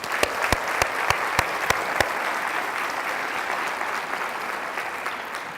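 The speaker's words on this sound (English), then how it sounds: "So please join me in giving them a round of applause." Audience applause closing a nonprofit survey results presentation, opening with a few sharp individual claps before settling into a steady, full wash of clapping from a sizeable room, sustained evenly throughout.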